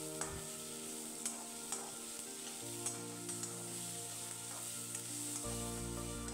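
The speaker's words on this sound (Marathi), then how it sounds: "आणि चांगला कांदा परतून घ्यायचा आहे." Chopped onion sautéing in a kadhai for misal gives a steady, soft sizzle with occasional light spoon clicks, set under continuous background music.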